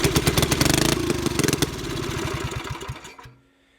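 A 1964 Super Farmcrest tiller engine is pulled into life: a loud, rapid run of sharp firing pops for about three seconds that stumbles and dies away into near silence.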